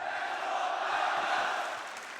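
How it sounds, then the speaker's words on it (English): Arena crowd at a FURIA vs Falcons CS2 esports match, a broad sustained roar of cheering voices that swells then eases slightly. "The crowd has made their allegiance clear."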